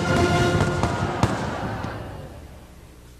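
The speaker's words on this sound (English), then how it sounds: "Those fireworks were the most amazing thing." A Walt Disney World fireworks show: a run of booming bursts and crackles with a long reverberant fade, then a sudden loud blast at the end, with faint voices in the background.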